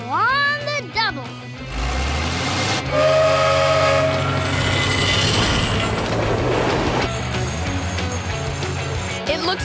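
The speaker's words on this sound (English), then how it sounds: "Here comes the train." A cartoon steam train approaches with a loud whistle that rises and falls, followed by sustained hissing steam and rumbling rail noise, with animated music and voices around it.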